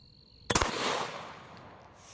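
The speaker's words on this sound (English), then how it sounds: "Subsonic 4-bore coming at a ceramic plate." A subsonic 4-bore gunshot strikes a ceramic plate: a single sharp, loud crack followed by a brief rattle and a noisy tail that fades away.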